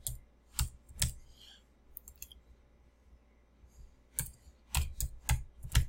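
Typing on a computer keyboard, bursts of crisp close key clicks in irregular clusters separated by quiet pauses, no voices.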